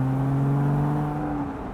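A Porsche Boxster 987 2.7 Tiptronic convertible accelerating, its engine giving a loud, steady hum heard from inside the car that eases slightly toward the end.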